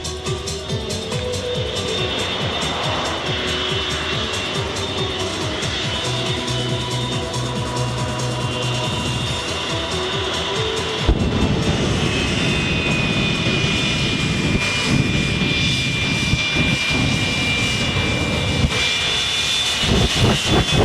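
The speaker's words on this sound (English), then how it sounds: "These twin Rolls-Royce jet engines have a thrust-to-weight ratio of 3-to-1." A jet truck powered by twin Rolls-Royce jet engines roars steadily and loudly at an air base open house airshow, a continuous heavy jet rumble and whine that intensifies midway and stays dominant throughout.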